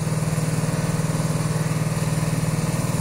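A cafe racer motorcycle engine idles steadily and evenly during a throttle adjustment. It chugs in a rapid regular pulse, close and loud, and does not rev up.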